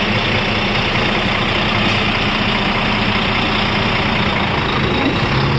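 Tractor-trailer truck engine idling through an in-cab air brake test, a loud, steady low rumble that runs unbroken for the whole stretch.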